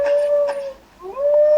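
A cartoon dog lets out a long, steady howl up close. It falls away briefly, then rises again and holds the note.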